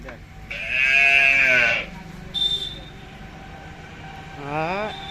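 Calves on a cattle farm bleating, one long loud nasal call close by followed by a shorter one near the end, with a voice speaking quietly in between.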